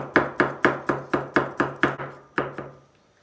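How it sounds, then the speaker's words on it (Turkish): Garlic cloves being chopped very finely with a knife on a cutting board, about a dozen crisp, evenly spaced blade strikes close up, each with a short ringing tail, with no voices. "Doğradığımız sarımsakları çok ince doğrayacağız."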